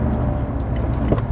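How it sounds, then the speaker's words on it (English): A Lotus car engine blips its throttle on a downshift, heard from inside as a brief rev swell over a steady low engine drone and road noise, close and fairly loud. "It's that little blip going down."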